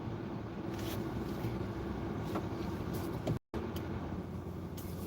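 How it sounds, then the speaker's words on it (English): A semi-truck engine running roughly, a steady low rumble with a droning hum, heard from inside a vehicle amid road noise; a brief dropout cuts the sound near the end. "There's that semi-truck again. That engine is not running right."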